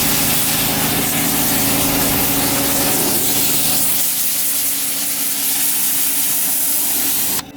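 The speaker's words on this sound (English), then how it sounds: "You want to hit it with high pressure water immediately after." A loud, continuous hiss of a high-pressure water sprayer washing a car at close range, steady throughout with an engine-like drone underneath, cutting off at the end.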